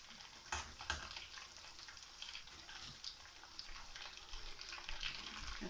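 Chicken frying in hot oil, KFC-style, the last batch being lifted out, a soft continuous sizzle with a few brief clatters near the start, faint and alone with no talking.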